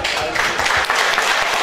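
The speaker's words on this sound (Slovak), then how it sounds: "potlesk." Applause from an audience at a Caruso show singing contest in Senica, a dense, continuous patter of many hands clapping, fairly loud and close, with faint voices mixed in.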